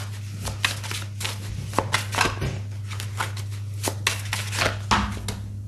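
A new deck of tarot cards being shuffled by hand, giving a series of close, crisp riffling snaps and flicks in an irregular rhythm over a steady low hum.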